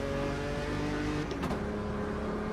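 A Brazilian Stock Car race car with an old, bumpy-sounding V8 drones steadily at close range, its low, uneven engine note holding with a brief shift in pitch partway through.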